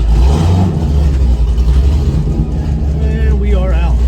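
A Chevrolet Corvette C6 Z06 engine drones loud and close from inside the car as it pulls away at night, a steady low rumble with a voice talking over it near the end.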